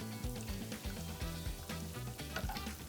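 Noodles tossed into a hot wok for chow mein, giving a steady close sizzle and frying hiss with soft stirring and clattering throughout.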